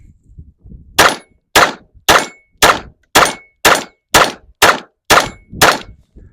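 A 22TUC pistol firing Punch rounds into gel, ten evenly spaced sharp gunshots in a quick steady cadence, loud and close.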